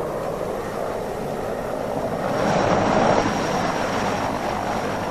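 A helicopter in flight over a Chernobyl-area work zone, a steady broadband rotor and engine drone holding at moderate loudness and swelling slightly midway, with no voices.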